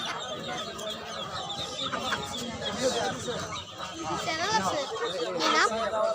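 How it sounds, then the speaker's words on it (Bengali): Chickens cluck and squawk repeatedly amid a busy crowd of chattering voices at a village poultry market with ducks, pigeons and quail, steady market bustle all around. "কবুতরের বাজার, কোয়েল পাখি দেখতে পারতেছেন, হাঁস মুরগি দিয়ে ভরা এই বাজারে"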